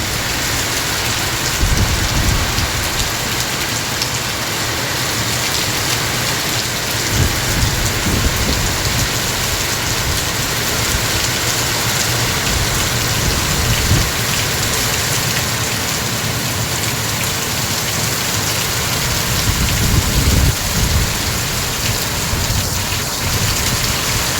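Heavy downpour in Malaysia after a spell of intense heat, a dense, steady roar of rain hitting surfaces close by, with occasional deeper rumbles mixed in and no voices.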